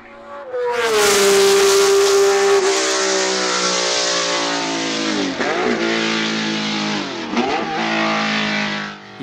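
A Ferrari 312PB race car with a 12-cylinder engine revs hard and loud, its high whine holding steady for several seconds before dipping and climbing again twice, close to the microphone with no talk.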